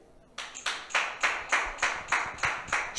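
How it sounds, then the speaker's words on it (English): An audience claps for a barmaid at a comedy show, a brief burst of steady, rhythmic applause that is fairly faint, with no talk over it. "a round of applause for the barmaid"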